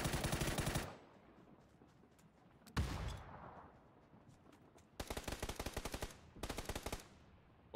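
Automatic gunfire rings out in a PUBG match: an opening burst, a single sharp shot near the middle, then two long rapid bursts close by toward the end.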